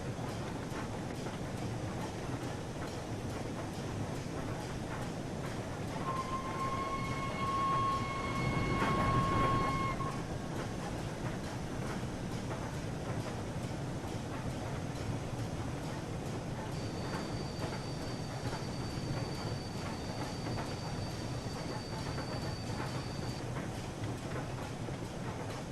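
Flying Scotsman 60103 steam locomotive in a train simulator game, a steady dense rumble and hiss of the running engine with a brief swell near the middle and thin sustained whistle-like tones drifting over it.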